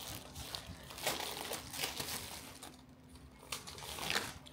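Packaging being unwrapped, with crisp crinkling and tearing in bursts of varying loudness and no talking.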